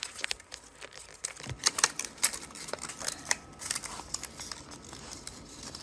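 Scissors snipping through paper while cutting out a shape for a Numberblock cube, a run of close, crisp irregular cuts and crinkles with no talk.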